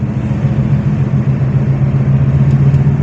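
A car engine runs at a steady low hum through a driving lesson, holding an even, continuous drone close by with no talk.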